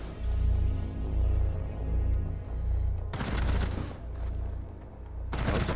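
Bursts of video-game gunfire from an unnamed gun, two dense rapid volleys cutting in over a steady low background hum, loud and close, with no talk.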